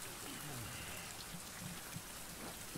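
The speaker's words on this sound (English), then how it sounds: "I'm crafting in the rain." Rain pours in the survival video game Survival: Fountain of Youth, set on a Caribbean island, a soft, constant hiss of rainfall with light droplet patter underneath, steady and quiet throughout.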